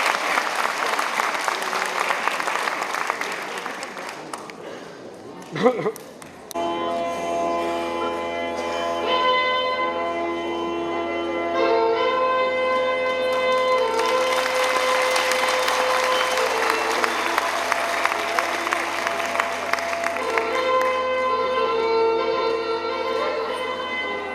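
Audience applause at a school holiday concert marking a high school anniversary, with crowd clapping at the start, a sharp transition, then sustained tonal music with bell-like tones and further clapping layered over it, loud throughout.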